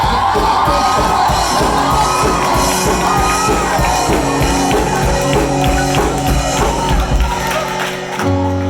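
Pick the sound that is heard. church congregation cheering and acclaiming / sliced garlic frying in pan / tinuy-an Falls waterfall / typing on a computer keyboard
church congregation cheering and acclaiming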